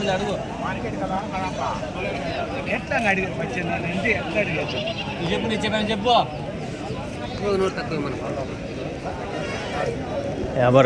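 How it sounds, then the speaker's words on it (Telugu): Sheep bleat here and there through steady crowd chatter at a busy Tuesday sheep market in Kadiri, with livestock and people milling close by. "తెల్ల పొట్టేలు ఉంది అది అడుగుదాం"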